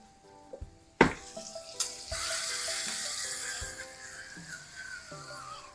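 Chicken pieces for a fricassee hit a pan on high heat with a sharp clatter, then a loud, steady sizzle and crackle of frying that slowly eases, with small pan knocks alongside.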